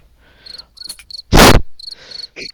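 A single cricket chirps in short bursts close by, broken by a sudden loud burst of noise in the middle, then resumes chirping alone.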